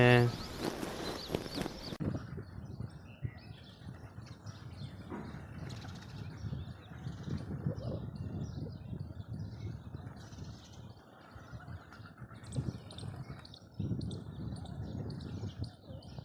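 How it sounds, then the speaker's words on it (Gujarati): Pigeons gathered on a rooftop terrace, with soft cooing, chirps and occasional wing flaps scattered over a steady low outdoor murmur for most of the stretch, after a brief louder opening burst. "અહીંયા કબૂતરા જે શણતા હતા એનો વિડીયો હું તમને બતાવું"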